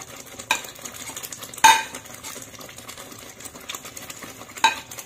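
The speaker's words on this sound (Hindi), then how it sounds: "अब हम इस मसाले में पनीर को डाल देंगे।" Paneer going into a masala gravy in a pan, giving a soft sizzle with scraping and clinking of a spoon against the pan, plus a few sharper knocks.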